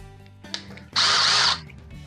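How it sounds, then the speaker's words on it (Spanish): A cordless impact driver runs in one brief burst of about half a second, a loud buzzing whir close by, with quieter handling noise before and after. "Mire, tenemos aquí el Impact Driver."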